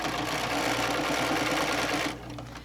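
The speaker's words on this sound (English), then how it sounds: "we're just going to stitch our way around" A sewing machine stitches around a quilted bowl cozy made with an Accuquilt project die, running a steady, close whir for about two seconds before stopping abruptly.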